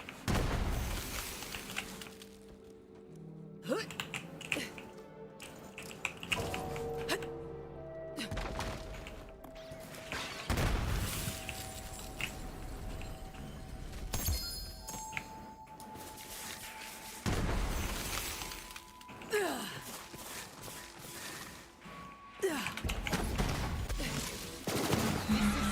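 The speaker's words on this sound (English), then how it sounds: "What gun is this? This is the free radical." The Free Radical gun in Borderlands 3 fires repeated bursts of sharp, punchy shots, with rapid volleys and booming impacts scattered across a chaotic in-game battle and short quiet gaps between the barrages.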